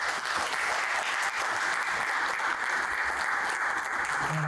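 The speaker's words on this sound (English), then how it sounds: "let's have a round of applause for the panelists" Sustained applause from a conference audience at a healthcare supply chain leadership forum, dense steady clapping that fills the room, loud and continuous throughout.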